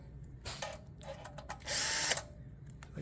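A power screwdriver works screws loose from a Xerox PrimeLink fax kit module: short bursts of whirring motor, the longest about half a second, separated by quiet clicks and handling noise, close by and moderately loud.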